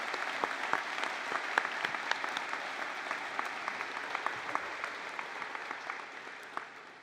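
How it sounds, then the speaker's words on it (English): An audience at a university first-year convocation applauds steadily with dense clapping throughout, heard from a moderate distance, fairly quiet and tapering slightly toward the end. "Please join me in giving these leaders a round of applause."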